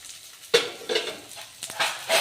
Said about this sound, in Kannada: ಒಗ್ಗರಣೆ ಮಾಡ್ಕೊಂಡು ಈರುಳ್ಳಿ ಹಾಕ್ಬೇಕು.